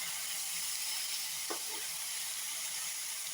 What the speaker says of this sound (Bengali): তার জন্য মরিচগুলো একটু তেল আর লবণ দিয়ে ভেজে